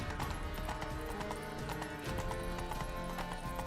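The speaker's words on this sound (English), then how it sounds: "her horse has got a lot more stamina than mine does" A horse gallops in The Witcher 3 with rapid, steady hoofbeats that carry on without a break over a dense layer of game ambience.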